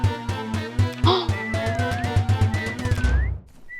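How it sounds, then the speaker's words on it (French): A player's whistle in the Roblox game Meccha Chameleon sounds as a wavering, sliding tone over loud, rhythmic game music, with a short second whistle near the end as the music fades. "Si, je siffle."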